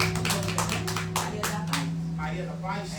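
A church congregation claps in a brisk, uneven rhythm, sharp hand claps mixed with a steady background hum while a preacher talks over it.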